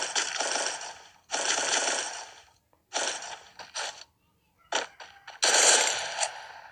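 Gunfire in the Free Fire battle royale game comes in several rapid automatic bursts, loud and close, separated by brief silent gaps.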